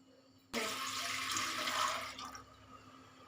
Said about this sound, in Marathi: त्या भांड्यामध्ये आपल्याला पाणी घालायचं आहे